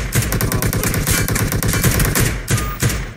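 Loud, sustained automatic gunfire in the mobile battle-royale game PUBG Mobile, a rapid steady stream of shots rattling on without pause for several seconds.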